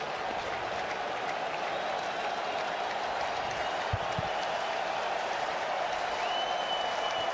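A baseball stadium crowd applauds and cheers in a steady, distant wash of noise that holds throughout without pause.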